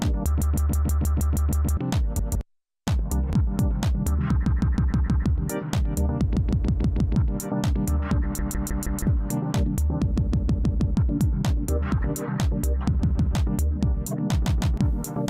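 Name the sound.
Roland MC-101 scatter effect with hold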